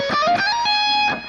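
A distorted electric guitar plays a quick legato run of pull-offs from a song, with several fast, smoothly connected notes and a sustained, buzzing tone, close and loud with no talking.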